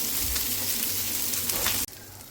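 Fish fries hotel style in a little oil, a steady dense sizzle close up that cuts off abruptly near the end, with no talking.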